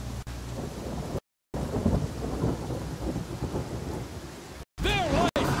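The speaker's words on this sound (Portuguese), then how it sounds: "Tá chovendo, né, Amiri?" Rain and rumbling thunder in the fantasy video game Pathfinder: Kingmaker form a steady wash of downpour with deep rolling booms and a couple of brief dropouts, followed by a short creature-like cry near the end.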